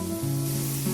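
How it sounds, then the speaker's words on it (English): Spam fries in a dry pan with no oil, giving a faint, steady close sizzle with a low hum beneath it. "Fry the Spam in a pan without oil."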